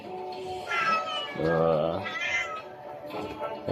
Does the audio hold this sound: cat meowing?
yes